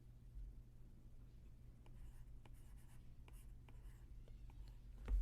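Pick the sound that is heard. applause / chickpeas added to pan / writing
writing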